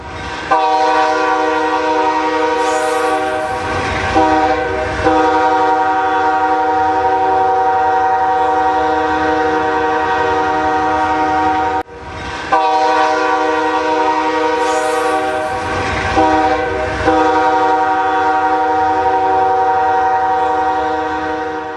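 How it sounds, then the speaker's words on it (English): A train rumbles past with long, loud horn blasts sounding twice, the steady tones rising above the rolling noise of the cars. "Trains and railroads."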